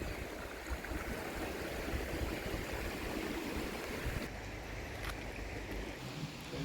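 Steady rushing water runs throughout, a broad continuous wash of flowing stream sound with no voices, fairly close and even in loudness.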